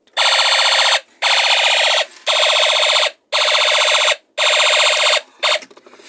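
An electronic kit circuit with a light sensor sounds a loud, steady electronic alarm-like tone in repeated bursts of about a second, separated by short gaps, with a final brief chirp and no talking.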